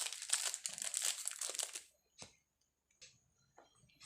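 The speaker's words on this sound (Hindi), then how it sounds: "तो इसे हम पैकेट में अभी डाल के रख देते हैं।" Cards from a Business Gold board game are slipped into a plastic packet, giving a close crinkling rustle for about two seconds, then a few soft scattered taps and handling noises with no talking.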